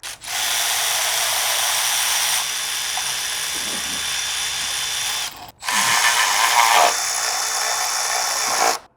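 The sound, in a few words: Milwaukee high-speed ratchet spinning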